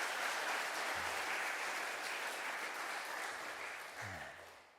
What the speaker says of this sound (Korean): 우리 찬양대 그리고 또 현악반 위에 뜨거운 박수 한번 다시 주시기 바랍니다